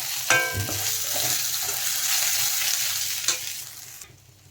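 A dal tempering of dried red chili, a bay leaf, whole cumin and crushed ginger sizzles in a pan with a few stirring clatters, steady and close, then stops abruptly.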